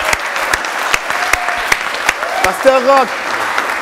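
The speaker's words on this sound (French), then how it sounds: "Aidez-moi à acclamer Dieu pour ce talent." A church congregation claps in rhythm, steady sharp hand claps at an even beat, with a voice speaking over them and a brief sung or shouted phrase near the end.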